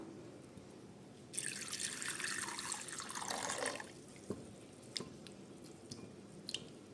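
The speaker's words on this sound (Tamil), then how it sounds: "இதை வந்து கரைச்சி நம்ம அதோட தண்ணியை எடுத்துக்கலாம்." Tamarind being dissolved and squeezed by hand in water for a dal and tomato rasam, giving a few seconds of close, wet squishing and splashing, then a run of scattered drips and small splashes.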